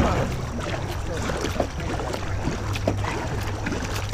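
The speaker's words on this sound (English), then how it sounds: "Hard paddle, let's see how fast I'm able to go" A fishing kayak is paddled hard toward a riverbank, with rhythmic paddle splashes and water churning close by over low wind rumble, continuous and fairly loud.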